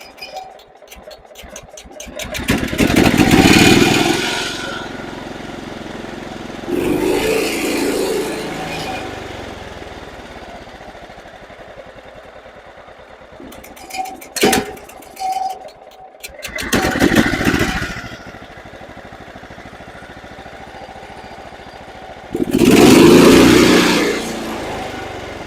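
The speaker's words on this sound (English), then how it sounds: "It idles nicely on the low side, and then as soon as I give it some throttle," The engine of a John Deere STX38 lawn tractor, which runs too rich when throttled up, idles and then revs in several loud surges that fall back to a rough idle, heard close over about twenty-five seconds.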